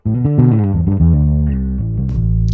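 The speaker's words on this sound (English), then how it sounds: "the effects are pretty darn good and useful on bass" Bass guitar played through a Neural DSP Nano Cortex effects unit, a steady run of sustained, heavily processed notes with a distorted, chorus-like sheen, loud and close with no talking.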